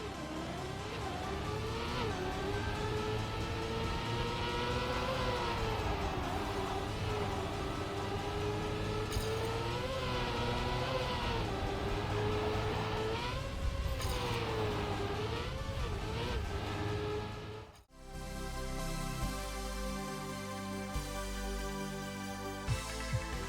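A race car engine from the Trackmania video game drones loud and steady, its pitch swelling and dipping with acceleration, before cutting abruptly to a different, choppier engine tone near the end.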